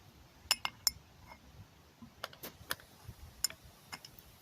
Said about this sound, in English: Just give this grease gun a push.